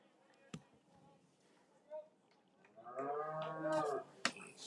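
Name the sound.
cow mooing in a pasture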